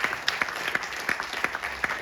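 A thin audience at a company announcement event claps, with distinct separate hand claps standing out over a sparse, uneven patter at moderate volume.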